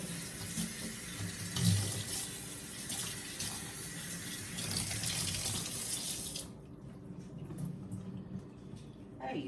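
Tap water runs steadily as potted orchids are rinsed, a continuous splashing gush that softens and thins after about six and a half seconds.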